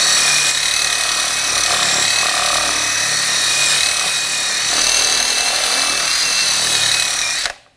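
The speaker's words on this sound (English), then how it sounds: "I'm just going to take a wire brush, clean up the hub surface." A wire brush scrubs the front brake hub surface of a 2007-2013 BMW X5, giving a loud, steady, harsh scraping that runs without pause for several seconds and then cuts off abruptly.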